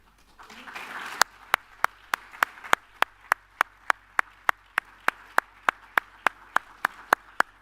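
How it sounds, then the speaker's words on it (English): After a brief swell of crowd clapping at a Board of Councilors meeting, a single pair of hands claps alone in a slow, even rhythm, about twenty sharp close claps. "let me ask all of the current and former Board of Councilors members to please rise and receive a round of applause"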